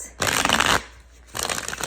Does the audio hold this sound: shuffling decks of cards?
yes